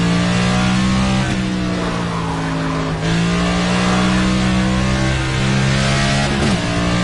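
A race car engine in the NASCAR 25 video game drones loud and steady at high revs, holding a constant whining pitch with brief dips and recoveries as the car shifts through corners, with no voices over it.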